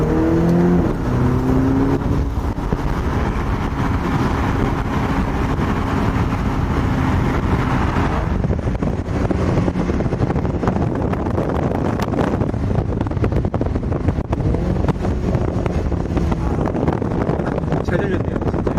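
A BMW Z4 20i on its stock exhaust accelerates with a steady engine roar and scattered crackling pops, heard from inside the moving car against heavy wind noise while people talk.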